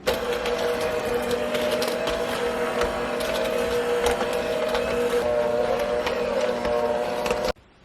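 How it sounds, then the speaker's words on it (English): An electric mixer's beater runs steadily through cookie dough made with baking soda and salt for a hotel-style chocolate chip cookie, giving a continuous close motor whir with a rattling, scraping texture for several seconds before it cuts off sharply. "we're just going to go ahead and slowly mix this in with our beater"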